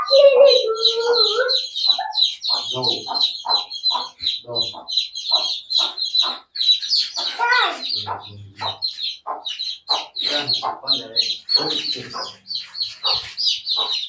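Desi chicken chicks and hens cluck and cheep at close range in a dense, continuous stream of rapid chirps and short clucks, with a few low hen calls scattered among the high peeping.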